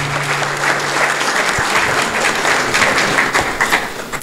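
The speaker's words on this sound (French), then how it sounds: "Applaudissez s'il vous plaît." An audience at a speech event bursts into loud, sustained applause, dense clapping filling the room without a break, with a few sharper claps standing out.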